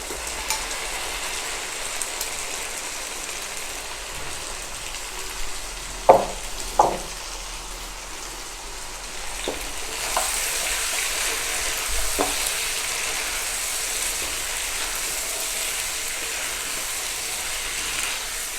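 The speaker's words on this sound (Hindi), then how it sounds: "अब हम इसमें 1 किलो मटन डालेंगे जिसको हमने पहले बॉयल कर लिया है हल्का सा नमक डाल के।" Boiled mutton fries and sizzles in a karahi with a steady hiss, while a few sharp scrapes and knocks of stirring break through in the middle before the frying grows louder and keeps going.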